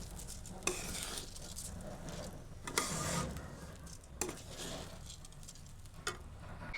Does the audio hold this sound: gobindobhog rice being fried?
yes